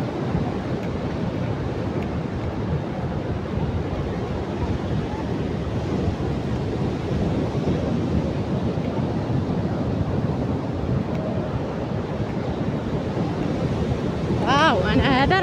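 Sea waves break and wash continuously on the shore in a dense, loud roar, with wind buffeting the microphone and a brief voice near the end.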